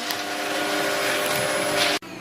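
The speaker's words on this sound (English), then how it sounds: "Just cracking on with a bit of hoovering." A household vacuum cleaner runs steadily indoors during hoovering, a constant loud whirring drone that cuts off abruptly near the end before resuming.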